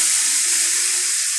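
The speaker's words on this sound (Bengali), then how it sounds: "এখন আমি জল দেব" Water pours steadily into a pan of cooking potato and cauliflower curry, a loud, continuous rushing gush lasting over a second before stopping abruptly.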